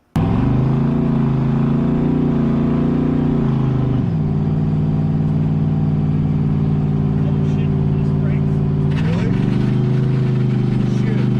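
A 1,300 hp Mercury Comet with a sticking accelerator idles loud and close, its engine note dipping and surging twice in steady, throbbing waves.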